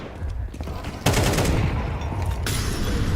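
Rapid rifle gunfire in a Counter-Strike 2 match at a Shanghai Major tournament, overlapping bursts and single shots close and loud, with a sharp surge of fire after the first second.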